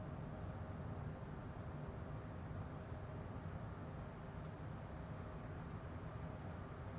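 An airliner climbs out after takeoff in Microsoft Flight Simulator 2020, its engines a steady, full broadband roar that holds level throughout with no talking.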